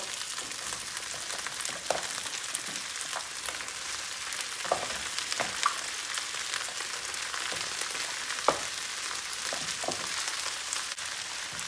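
Green beans, still a little wet, hit hot oil with softened onions in a pan, giving a steady bright sizzle with scattered pops and crackles throughout, close and fairly loud.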